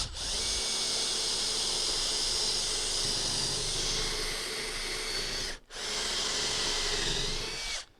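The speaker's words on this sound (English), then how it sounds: "So basically you just drill the end of the head off" A power drill runs steadily at high speed, drilling the heads off nails during a sliding door repair, briefly stopping once before continuing; loud and close with no voices.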